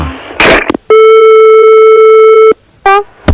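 A telephone busy tone on a broken phone line sounds as one long, loud, steady electronic tone, with a short burst before it and a rising chirp after it.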